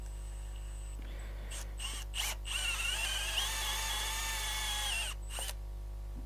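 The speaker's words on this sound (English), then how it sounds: "So I'm just going to find the center and drill a hole into this." A power drill bores a hole into the center of a wood piece in a woodturning workshop, with short trigger bursts and then a steady whining spin for a few seconds under a constant low hum.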